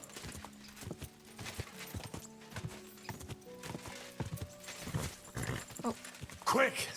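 Rhythmic hoofbeats of a galloping horse in Kingdom Come: Deliverance II, clip-clopping steadily with game-like effects and a brief whinny near the end.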